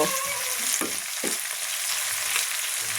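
Potatoes with spice powder and a little salt cooking in a pan, a steady close sizzle broken by a few short stirring scrapes, with no voices.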